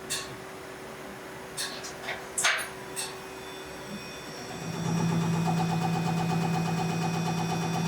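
A Cummins 6.7L diesel engine sits quiet for a few seconds with only scattered clicks and knocks, then starts around the midpoint and settles into a steady, loud, droning idle.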